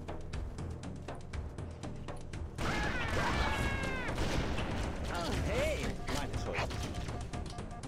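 Gunfire in the Halo video game: bursts of rapid shots and heavy impacts crackle in a dense, busy battle mix, joined by brief whooshing and sweeping weapon effects, with no break in the action throughout.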